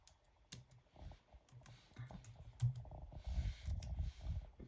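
A password is typed on a computer keyboard in a run of quick, close key clicks. The pace is irregular, with a denser burst of keystrokes near the end.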